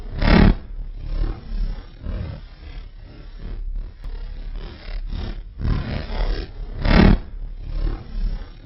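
A deep, rumbling roar with crackling texture from a solar flare converted to sound, swelling and fading in surges, loud and continuous like a distant storm or engine.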